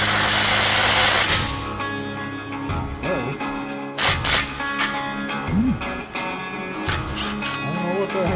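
A Milwaukee M18 cordless impact driver rated at 180 foot-pounds gives a loud, buzzing mechanical burst at the start, followed by lower, intermittent tool noise and close talking.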